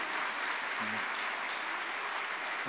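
A church congregation at an early-morning revival service keeps up steady, continuous applause throughout, with faint brief voices in the background.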